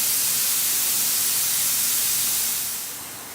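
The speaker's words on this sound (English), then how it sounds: "Can you hear that sear? That's a great sound." Steak searing in a hot pan, a loud, steady broadband sizzle that holds evenly close up before easing slightly at the end, with no voices.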